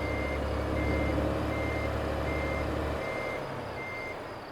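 A truck reversing in American Truck Simulator, a Caterpillar C-12 rig with an Eaton 8LL gearbox: steady, evenly spaced reversing beeps over a low diesel engine drone that eases off near the end, with no talk.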